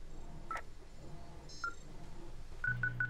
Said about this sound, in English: this thing is losing its mind, beeping like crazy